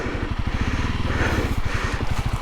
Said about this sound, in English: this is really just some backwoods exploring on the CRF, and this is what it's made for